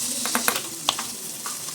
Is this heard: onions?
yes